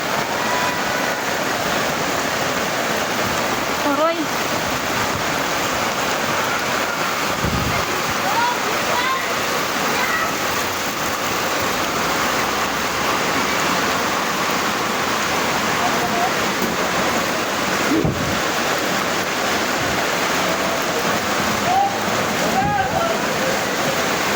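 Steady, loud rushing floodwater roars continuously nearby in a flooding residential subdivision, a dense churning wash with faint voices occasionally rising above it.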